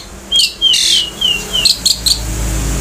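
An Asian pied starling gives a series of short, sharp, squeaky whistles and chirps, several quick calls in bursts over a faint background hum.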